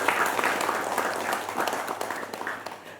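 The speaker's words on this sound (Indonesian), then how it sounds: "Boleh berikan tepuk tangan yang paling semangat" Studio audience at a televised badminton talk show claps enthusiastically, a dense, steady wash of applause that fades slightly toward the end.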